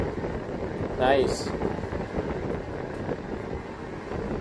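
A Kobalt 24V job site fan runs at a high setting, pushing out a steady, fairly loud rush of air with constant hiss. A voice briefly speaks over the airflow.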